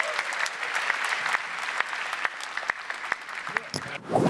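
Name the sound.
audience applause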